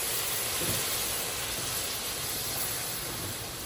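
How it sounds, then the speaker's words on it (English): A hot pan deglazed with house-made ponzu of light soy and citrus juices, giving a loud, steady, broadband steam hiss that fills the whole moment without pause. "we are going to deglaze the pan with our house-made ponzu"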